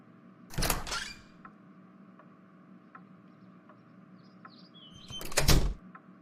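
A door opens with a brief rattling burst, soft ticking carries on through a quiet stretch, and then the door closes with a second, louder burst; no one speaks.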